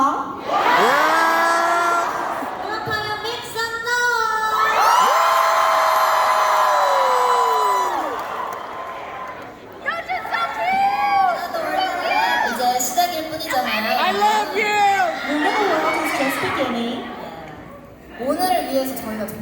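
Concert audience at a show cheers and whoops loudly and continuously, a dense wash of crowd noise with high shouts rising and falling, easing slightly toward the end.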